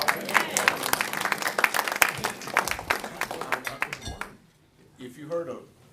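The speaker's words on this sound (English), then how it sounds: "Let's give him a big round of applause." An audience claps together in a lecture class, a dense burst of applause that carries loud for about four seconds before stopping abruptly, followed by a short stretch of quieter murmuring.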